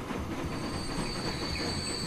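Trains rolling in the video game Transport Fever 2, a steady rumbling clatter with a thin high squeal running throughout, no talking.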